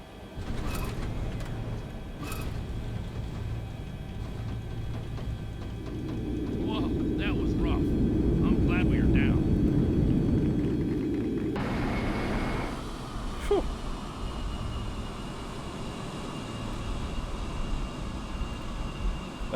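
Flight-simulator DC-9 airliner taxiing after landing: a steady, droning jet-engine rumble that swells midway and then shifts to a higher whine, with a voice talking over it.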